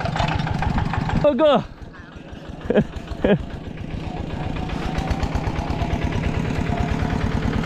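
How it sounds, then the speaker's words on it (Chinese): A tractor engine idles nearby on a road in rural Laos, a steady low, throbbing chug that runs throughout the clip while people speak briefly over it. "这拖拉机可以"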